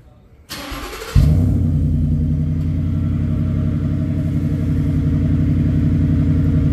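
A 2020 Ford F150 with its factory tailpipe cranks and fires up, then settles into a steady, close, rumbling idle that holds for several seconds.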